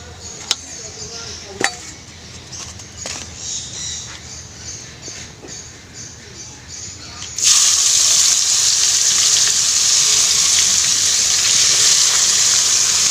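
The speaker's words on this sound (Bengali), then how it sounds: "এখানে আলু ভেজে নিয়েছি কড়াই তেল আর এই পেঁয়াজ লঙ্কা এবার দেবো" Onions and green chillies drop into hot oil in a wok where potatoes were fried, and a loud, bright, steady sizzle bursts up halfway through after quieter kitchen clatter and faint bird calls.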